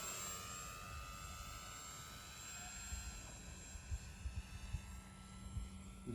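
Dynam PT-17 RC model biplane in flight, its engine a steady high whine with slowly shifting pitch, faint and distant, with light outdoor rumble and a few soft knocks.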